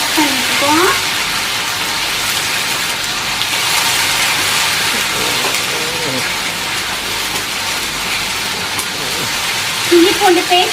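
Ginger garlic paste sautéing in hot oil gives a steady, close sizzling hiss that runs throughout, with a voice talking over it at times.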